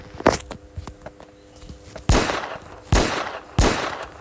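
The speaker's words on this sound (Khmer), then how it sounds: "ខ្ញុំបាញ់ពីឆ្ងាយប៉ុណ្ណាក៏ត្រូវដែរ" Video game gunfire from a police character shooting at long range: a few scattered light pops, then three heavy booming shots roughly a second apart, each ringing out briefly.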